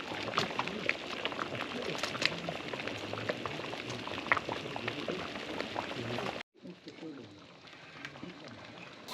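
A boiling dessert mixture on the stove bubbles and pops steadily while a spoon stirs it, close and continuous, then quieter for the last few seconds.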